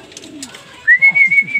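Racing pigeons at the loft give a short run of soft, rhythmic low coos, with a thin whistle-like tone above them, close and fairly loud with no talk.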